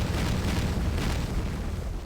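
Grenade blasts in a flash video game, merging into a steady, loud, crackling roar with heavy low-end rumble that runs throughout without distinct separate bangs.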